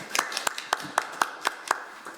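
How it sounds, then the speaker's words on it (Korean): Rhythmic clapping with roughly ten evenly spaced claps, fairly close and distinct, like a small group clapping in time, at a policy discussion forum welcoming a speaker. "큰 박수 부탁드리겠습니다"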